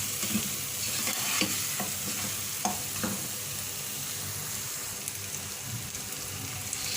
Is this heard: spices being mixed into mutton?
yes